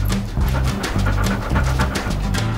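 A dog pants rapidly and rhythmically close by, with breathy huffs and faint whimpering tones mixed in.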